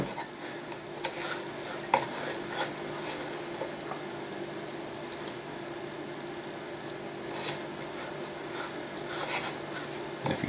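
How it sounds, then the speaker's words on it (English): Fine casting sand sifted through a screen, a continuous soft hiss and patter with occasional faint scrapes, steady and close with no voices. "So I'm going to sift it through this screen."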